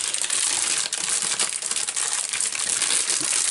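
Crisp, continuous crinkling close up as a plastic bag holding a Warhammer 40k Conquest issue with Death Guard ruins terrain is pulled open, dense and fairly loud with small rustling bursts throughout.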